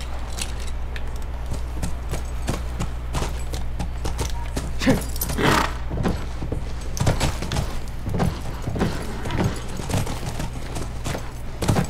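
Horse hooves clip-clopping in The Last of Us, a steady run of sharp knocks through the whole stretch over a constant low rumble and game ambience.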